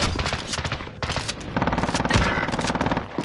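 Rapid machine-gun bursts and scattered shots from a military video game, a dense continuous volley that stays loud and close and grows heavier partway through.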